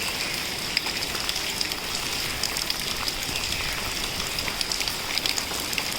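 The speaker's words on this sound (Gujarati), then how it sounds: "કેટલો વરસાદ આવે છે." Steady rain pours down outdoors in a dense, even hiss of drops with occasional louder spatters, continuous and close throughout, with no one speaking.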